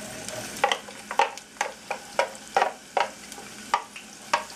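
Onion fries in hot oil in a pan, a continuous sizzle punctuated by regular sharp crackles and scraping stirs about every half second, close and fairly loud.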